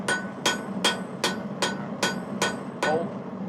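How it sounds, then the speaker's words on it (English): Metal is struck by a hammer outdoors on a cold day near a hot fire, with eight evenly spaced sharp, ringing blows sounding loud and close. "So we're going to hammer that a little higher up there."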